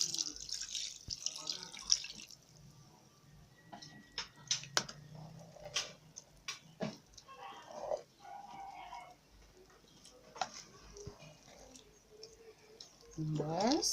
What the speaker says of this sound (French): On ajoute pratiquement 800 centilitres d'eau.